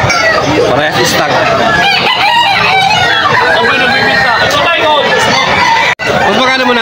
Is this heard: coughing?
no